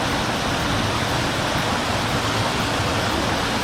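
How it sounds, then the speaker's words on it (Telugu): Aira waterfalls in the Lake District, UK, rumble as a dense, continuous roar of falling water, loud and close, with no voices over it. "ఇదిగో ఇక్కడే పడుతుంది వాటర్ ఫాల్స్."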